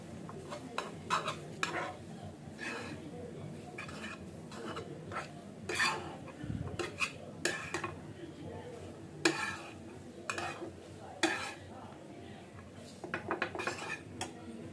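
Fried noodles being tossed and mixed in a pan, with frequent clattering scrapes and knocks of a utensil against the metal over a soft, low sizzle, irregular and close, with no voices.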